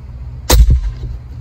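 A single sharp shot from an AirForce airgun fitted with a power plenum, loud and close, with a quick crack and a short low thump trailing after it.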